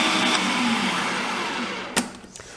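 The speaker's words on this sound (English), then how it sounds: "as you go in the food processor, a little air pocket develops on the outside" A food processor blends chickpeas, olive oil and garlic into a hummus puree, its motor whirring loudly and continuously before stopping near the end, leaving a few faint clicks.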